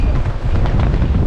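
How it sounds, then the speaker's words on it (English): Heavy windstorm wind roars and buffets the microphone on a Newfoundland coast near a lighthouse, a loud, continuous low rumble with gusting surges, no clear talking. "It's like a wind storm."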